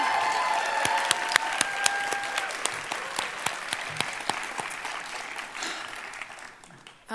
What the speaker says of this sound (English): Let's do just one more round of applause for Senator Warren